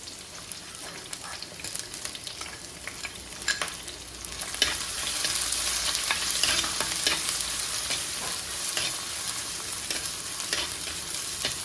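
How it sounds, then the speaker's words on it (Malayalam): Crushed small shallots hit hot oil with curry leaves, ginger and green chili for a Kerala-style sardine curry, giving a close, steady, crackling sizzle that swells louder midway, with occasional stirring scrapes. "ഈ സമയം നമ്മൾ ചതച്ച് വെച്ചിരിക്കുന്ന ചെറിയ ഉള്ളി ഇതിലേക്ക് ചേർത്ത് കൊടുക്കാം"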